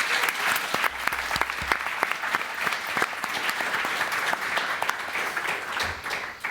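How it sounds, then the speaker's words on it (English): A crowd claps steadily in sustained applause, dense overlapping claps at an even level throughout with no talking. "Let's give them all a big round of applause."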